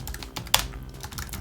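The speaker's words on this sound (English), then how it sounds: "My god, my typing." Fast computer keyboard typing during game prototyping in Game Maker, a run of quick, close, soft clicks with one sharper keystroke partway through, no talking.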